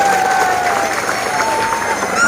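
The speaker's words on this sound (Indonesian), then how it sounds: "Tepuk tangan dulu dong buat santri" Crowd at an Islamic sermon gathering clapping and cheering for a santri, a loud steady burst of applause with a high voice or whistle-like tone ringing through it.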